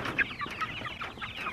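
Chickens inside chicken tractors on a farm cluck and murmur in a steady, close cluster of soft calls, with no one talking.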